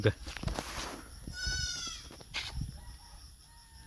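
A goat bleats once in a wavering, drawn-out cry, close by, with people talking around it.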